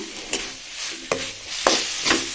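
Carrot and beans stirred in a pan for fried rice, a spatula scraping across the pan in four distinct strokes over a steady sizzle of frying, close and clear.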